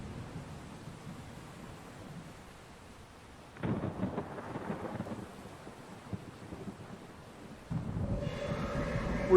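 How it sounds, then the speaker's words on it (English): Heavy storm activity rumbles through Jupiter's atmosphere in the game Exo One, a steady low roar that swells abruptly into louder, denser turbulence midway and again near the end, with no voices. "Got some serious storm activity now."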